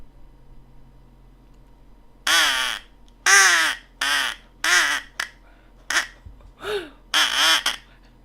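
A hand-made crow call blown to imitate a crow's caw gives about nine loud, raspy caws in an uneven series, some doubled, close up over a quiet background.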